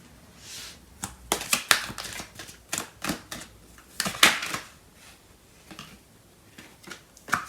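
Tarot cards are shuffled and handled to draw clarifier cards: a run of close, crisp flicks, snaps and papery slaps in an irregular rhythm, fairly loud, with brief quieter rustling pauses between.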